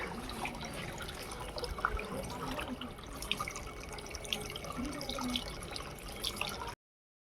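Water runs steadily from a tap during washing at home, a continuous close splashing and trickling that cuts off abruptly at the end.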